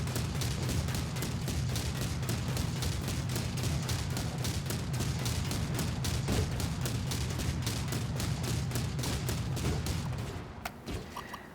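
Sustained rapid fire from a C-302 30mm chain gun in the modded TerraTech video game, a dense unbroken stream of loud shots lasting about ten seconds before cutting off abruptly.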